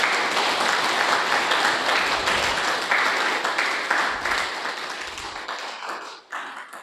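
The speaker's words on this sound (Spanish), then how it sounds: "Dale palmas al Señor" A church congregation clapping during worship: a dense, sustained roll of many hands, fairly loud and continuous, gradually thinning and fading toward the end with a few scattered claps.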